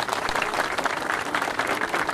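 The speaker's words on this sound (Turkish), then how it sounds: "Ben bu iradeye Sayın Cumhurbaşkanımıza çok teşekkür ediyorum ve kuvvetli bir alkış istiyorum." Strong audience applause at an event launching hydrogen buses, a thick, energetic burst of many hands clapping close by, continuous from start to finish.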